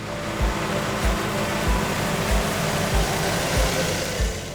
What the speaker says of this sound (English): The arable giant draws its 610 horsepower from a 6-cylinder Cummins engine with a 15-litre cylinder capacity.